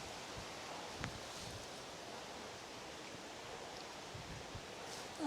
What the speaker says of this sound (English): see if there'll be a little break in the wind